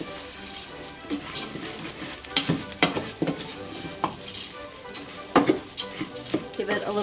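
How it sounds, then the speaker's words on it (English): One and a half cups of arborio rice toasting in butter in a pot, stirred with a spoon: a constant crackling sizzle with irregular scraping strokes and light clinks against the pan, close up, nobody speaking. "I want to stir this up really well and get my rice coated in that butter."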